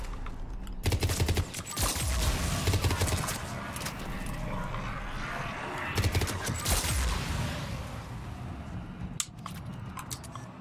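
Rapid fire from a Harrier rifle in Mass Effect 3 multiplayer, played as a Geth Engineer. Two dense, loud bursts are heard, each with steady churning battle noise beneath it.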